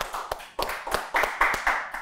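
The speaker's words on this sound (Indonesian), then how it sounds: "Tepuk tangan dulu dong" A short burst of clapping, a handful of claps in an uneven rhythm, fairly close and sharp, fading after about two seconds.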